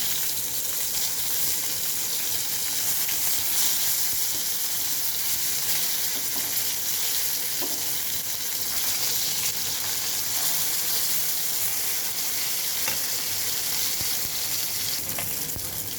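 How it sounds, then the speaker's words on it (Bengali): Meat frying in a hot pan while being turned, a continuous close, loud sizzle and crackle with no pauses and no talking. "ভেজে নিই উল্টায় দিই এটা ফ্রাই হয়ে আসছে মাংসটা"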